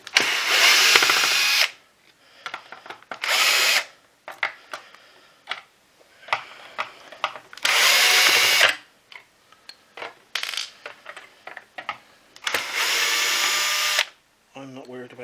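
Cordless power drill backing screws out of a Vax ONEPWR Edge vacuum floor head, several loud bursts of whirring separated by pauses, with small handling clicks and rattles in between.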